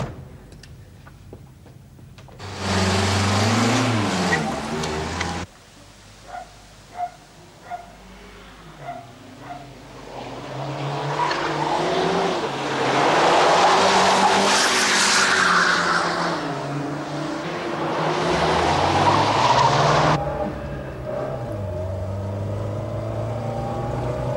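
A car revs loudly and pulls away with tires squealing and skidding, its engine note rising and falling over about twenty seconds, while a dog barks repeatedly in the background.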